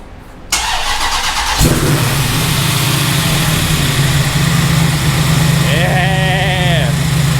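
A supercharged 426 HEMI engine in a Dodge Dakota pickup cranks and fires at about half a second, then settles into a loud, steady, lumpy idle close by, with a brief whine of blips near the end and voices faint underneath.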